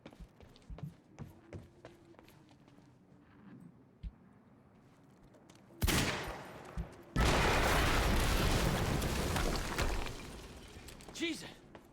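Explosive barrels blow up in Quantum Break: a sudden loud blast lands mid-clip and a second, sustained roaring burst follows, after quieter footsteps and gameplay ambience.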